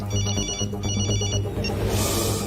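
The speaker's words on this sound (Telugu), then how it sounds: "రింగ్ అవుతుంది కానీ ఎవరు ఎత్తట్లేదురా" A telephone ringing on and off, unanswered, in a film scene, its ring fairly loud over a low background hum and a burst of noise near the end.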